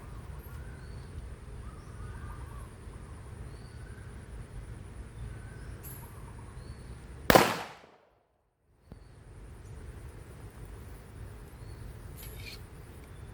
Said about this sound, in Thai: ผมจะยิงที่ทางซ้ายก่อนนะครับหนึ่งนัด